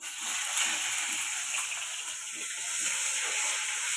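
Cooking oil sizzles steadily in a hot pan, a continuous close hiss and crackle, with faint speech murmuring low underneath.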